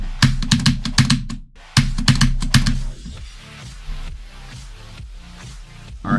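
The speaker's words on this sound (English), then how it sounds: "So, no, I play on keyboard. I have a Huntsman V2." Fast, close clacking on a Razer Huntsman V2 keyboard, with quick bursts of keystrokes, a brief pause, then another burst before the typing thins into softer, scattered presses under a faint background hum.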